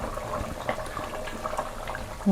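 Country chicken curry simmering in a pot after water has been poured in, giving a steady, close bubbling and hissing wash with small pops, ending in a louder knock.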